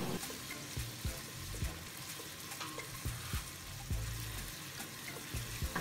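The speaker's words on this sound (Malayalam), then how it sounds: "ഓയിൽ നന്നായിട്ട് ചൂടായിട്ട് വരുമ്പോൾ ഇതുപോലെ ചെറുതായിട്ട് അരിഞ്ഞ് വെച്ചിട്ടുള്ള ഒരു വലിയ ഉള്ളി ചേർത്ത് കൊടുക്കാം." Finely chopped onion sautés in hot oil in a pan for a Malayalam-style maqluba chicken rice, with a steady sizzle broken by repeated scraping stirs of a spoon against the pan.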